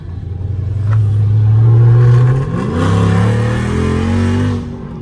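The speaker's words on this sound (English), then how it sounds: "Get some downshifts for y'all" A tuned Dodge Hellcat SRT with a burble tune drones loudly from inside the car, then blips upward in pitch on a downshift and settles into a deep, steady rumble before easing off.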